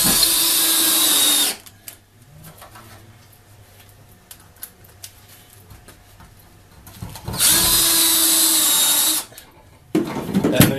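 Power drill driving screws into a basement workbench, with two loud whirring bursts separated by quieter handling noises and a brief third start at the end.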